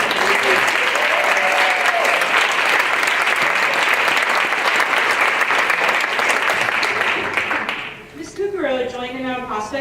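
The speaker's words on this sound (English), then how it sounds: "So that's a round of applause right there." Sustained loud applause from an audience at a school board of education meeting, steady clapping filling the room for about eight seconds before fading as a voice begins speaking.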